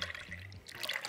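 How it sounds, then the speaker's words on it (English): Regular milk poured into an emptied condensed milk container, a soft liquid trickle and splash heard close up over about a second, with no talking. "And then we're just going to put regular milk in it."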